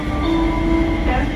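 A metro train in Knyaginya Maria Luisa station on the Sofia metro in Bulgaria gives a loud, steady rumble with a sustained tonal whine, close by and continuous.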